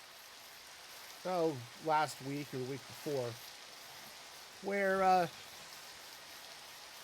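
Steady rain in Minecraft, played with a shader pack, hisses softly throughout while someone talks over it.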